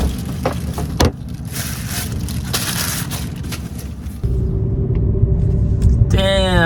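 Cars sit idling in a long traffic line, a steady low engine rumble close by that grows heavier partway through, with a few knocks and brief voices in the background.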